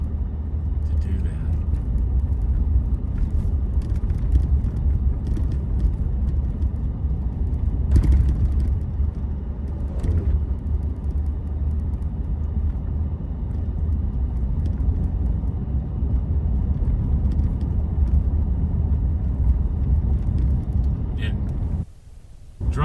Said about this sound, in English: Driving in the car